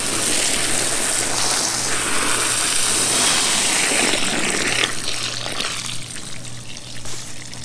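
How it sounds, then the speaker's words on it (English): Water gushes steadily from a hose into a dug hole in hard, concrete-like garden dirt, a loud continuous pour that thins and trickles toward the end. "We're just fill this hole with some water, let it soak for 20 minutes"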